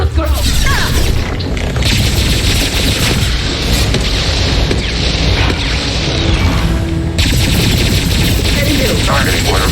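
A defensive turret fires continuously during Mass Effect 2 combat, producing loud, dense, sustained mechanical gunfire with crashes and booms. Voices talk over the shooting.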